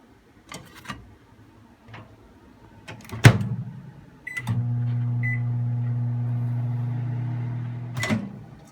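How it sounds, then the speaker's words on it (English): A microwave oven on high runs with a steady hum while heating a Simply Asia noodle bowl, ending with a couple of short beeps; light clicks and a door-like knock come first, with no talk. "So the microwave has just beeped."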